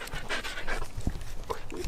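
A dog at an abandoned building pants in quick, close, rapid breaths over a short stretch, fairly quiet with faint background noise.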